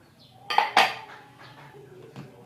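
Dishes, pots and cutlery being washed, two loud close clattering knocks of crockery and metal followed by quieter clinks and a final tap, with running water faint beneath and no speech.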